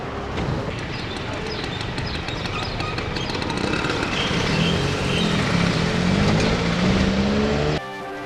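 Road traffic flows through Srinagar during a lockdown: a steady wash of passing vehicles with engine noise that swells as one draws nearer, then cuts off abruptly.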